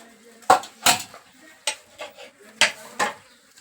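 Metal utensils clank against a pot on a gas stove as vegetables are stirred, six sharp, close knocks at uneven intervals over quiet background.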